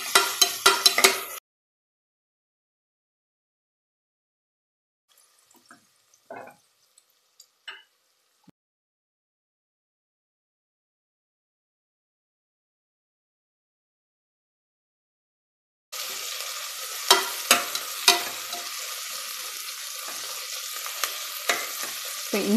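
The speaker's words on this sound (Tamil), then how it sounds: "இந்த அளவுக்கு நல்லா அந்த ஆனியன் நல்லா வதங்கணுங்க" Onions sauté in a pan for mushroom biryani, a brief burst of sizzle at the start, then long near-silence with a few faint knocks, before a sustained close crackle returns with repeated scraping stirs.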